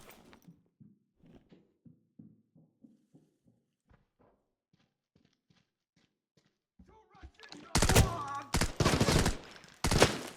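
Quiet footsteps and soft thuds give way to loud bursts of rapid gunfire from a VSS rifle in the video game Arena Breakout Infinite, several volleys in quick succession, close and harsh.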